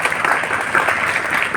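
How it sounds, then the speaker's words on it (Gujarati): Brief audience applause at a school program, dense, even clapping from a crowd lasting under two seconds. "તમારી તાળીઓ વગર અમારા કાર્યક્રમની શરૂઆત નથી થતી"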